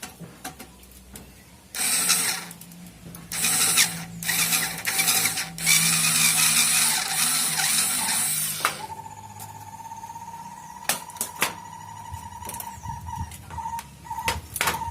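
A small electric screwdriver from a 45-piece kit backing out a screw, heard as a whirring motor in bursts, then a steadier high whine with short clicks, close and fairly loud.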